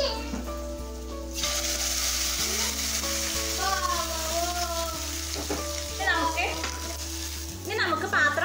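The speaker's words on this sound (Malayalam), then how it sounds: "ഇത് നമ്മുടെ പുളി ഇത് ഇനി നമുക്കിത് നമ്മുടെ മാമ്പഴ പുളിശ്ശേരിയിലേക്ക് ഒഴിച്ചു കൊടുക്കാം" Curry-leaf tempering poured sizzling into a ripe mango pulissery, a Kerala-style sadya curry, gives a steady, close hiss and crackle throughout, with faint speech and a low hum underneath.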